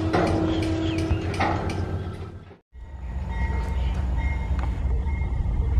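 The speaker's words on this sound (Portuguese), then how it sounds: "O trem já tá partindo aqui." A double-stack container freight train departs a station yard in Brazil with a steady loud rumble of rolling cars, a brief break midway, then continuing heavy rail noise.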